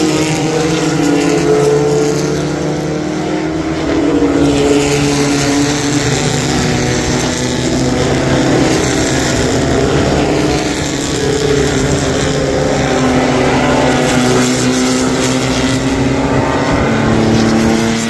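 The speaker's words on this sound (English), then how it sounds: "the car out front, the March 77B, is full on" A March 77B race car runs at full throttle at a motorsport event, its loud, steady engine roar sustained and close throughout with slight swells in pitch, no voices heard.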